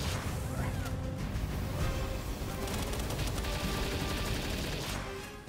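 Sustained assault rifle fire during a raid boss fight in the Palworld video game, dense rapid bursts layered with impacts and effects, loud and continuous, with a voice talking faintly underneath.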